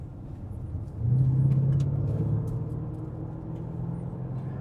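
A Lamborghini Urus SUV cruising on a road in Hawaii, its steady engine drone and road rumble rising a bit louder for a couple of seconds before settling back into a continuous interior hum.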